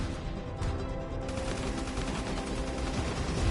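Turret gunfire in the Mass Effect 3 video game, a dense, continuous rattle of rapid shots under a loud rumbling battle din, unbroken throughout the short stretch.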